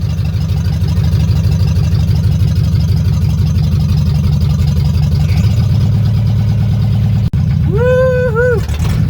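A 1974 Camaro Z28 with a rubbing back tire runs on a test drive, its engine a loud, close, steady rumble throughout, with a brief rising whine near the end.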